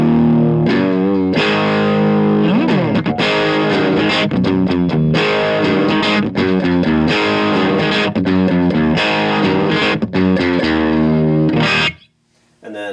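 Heavily distorted electric guitar with a humbucker through a Dr Z Carmen Ghia amp plays loud, saturated chords and riffs with a gritty overdriven tone, cutting off abruptly near the end.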